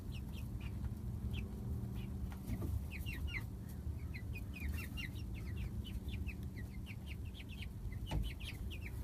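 Young ten-week-old chickens cluck softly and repeatedly in a backyard setting, a steady scatter of short calls at moderate distance with no talking.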